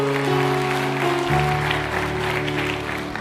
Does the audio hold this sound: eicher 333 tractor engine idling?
no